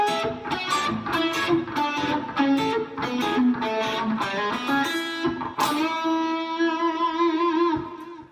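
A blues lick in the Mixolydian scale played slowly, a run of sustained, slightly distorted notes with no talking, ending on a long held note that fades out.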